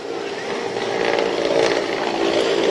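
Military helicopter at an Independence Day anniversary parade in Koforidua, a broad mechanical rotor-and-engine roar, steady and gradually swelling rather than fading, heard at a distance without clear talk.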